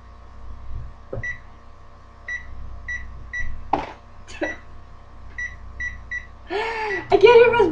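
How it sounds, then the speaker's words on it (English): A microwave oven's keypad beeps as buttons are pressed to set cooking time, short electronic bleeps in quick groups, followed by a longer tone, with brief clatter in between and voices at the end. "I can't even press buttons on a microwave."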